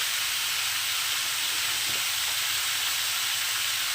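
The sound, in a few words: ridge gourd frying in a pan with turmeric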